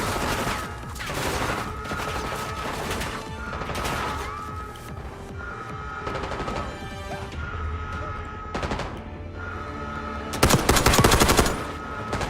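Gunfire in Call of Duty Black Ops 6 from a marksman rifle with a box magazine, loud repeated shots and bursts over game music and effects, with a heavier volley near the end.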